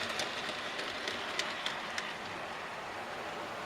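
Loft model railway train pulling a line of brake vans, a steady low rolling rumble with light rhythmic clicks of wheels over rail joints, moderately close and fading slightly toward the end.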